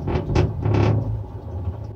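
A broken home boiler giving a mild shake, a short low rumbling tremor with a couple of soft knocks, close and moderately loud, fading out over two seconds with no voices.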